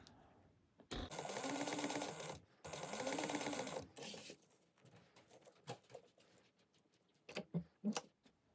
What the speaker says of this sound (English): I'm going to sew all the way down, and then I'll sew this one and then turn and then come back up.